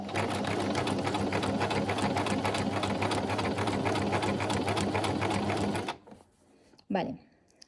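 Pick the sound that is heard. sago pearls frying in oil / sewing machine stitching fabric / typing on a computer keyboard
sewing machine stitching fabric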